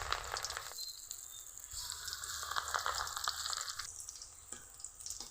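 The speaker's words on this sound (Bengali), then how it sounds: "বাকি সবগুলো এভাবে ভেজে নিব।" Coriander leaf chops frying in hot oil give a steady, close crackling sizzle with fine popping, heard alone with no voices throughout.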